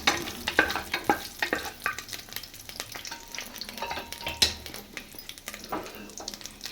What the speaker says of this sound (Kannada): 1 ಏಲಕ್ಕಿ, 2 ಪೀಸ್ ಚಕ್ಕೆ, 2 ಪೀಸ್ ಲವಂಗ ಹಾಕೊಂಡು ಚೆನ್ನಾಗಿ ಫ್ರೈ ಮಾಡ್ಕೊತಾ ಇದ್ದೀನಿ.